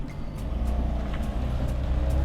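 A 700-horsepower BMW M4 with a straight-pipe exhaust and its exhaust valves closed, heard as a steady, fairly subdued low engine drone from inside the car while driving, with no talking.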